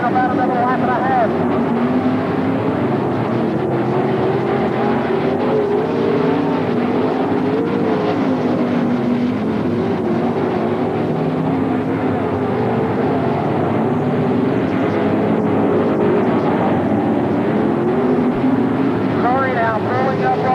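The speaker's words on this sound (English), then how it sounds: "Curry now pulling up on the outside of Scott James as they go down the front straightaway here and off into turn number 1" Late model race cars roar around the Brownstown Speedway dirt oval, a steady, loud engine drone filling the whole stretch while an announcer calls the race over it.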